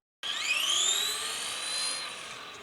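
An ARRMA Typhon 2S MEGA 4X4 RC car's electric motor whines loudly and steadily from a sudden start, its high pitch rising and then easing slightly as the car runs straight.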